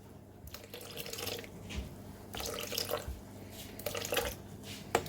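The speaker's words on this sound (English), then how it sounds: "We're going to add in 250 grams of water." Warm water, 250 grams, is poured into a bowl of flour and oil for sourdough bread, a close trickling and splashing stream that swells in several bursts over five seconds, with no talk over it.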